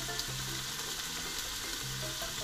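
Rosemary frying in a pan with pasta and beef, a steady soft sizzle and crackle running continuously at close range, alone without talk.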